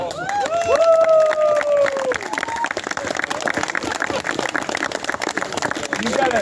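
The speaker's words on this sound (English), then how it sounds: "Give them a round of applause." A crowd claps for the winners of an unlimited-class chainsaw carving competition, rapid dense applause with whoops and voices mixed in, loud and close, while someone talks over it at the start.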